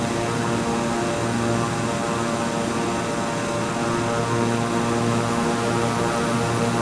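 Steady, loud drone of a Piaggio P180 Avanti II's twin propellers in Microsoft Flight Simulator, an unbroken buzzing hum with strong tonal harmonics holding constant with no breaks.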